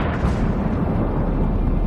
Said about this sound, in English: it delivered a strike that caused a powerful explosion